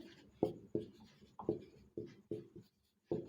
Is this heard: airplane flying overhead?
no